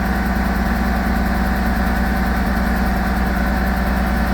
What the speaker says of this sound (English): So this is a 1990 Peterbilt with a signature 600 Cummins engine.